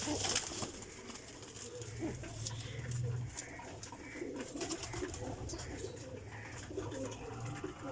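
Breeder pair of black pigeons cooing softly, low repeated coos at moderate distance over a steady background hum with faint bird chatter.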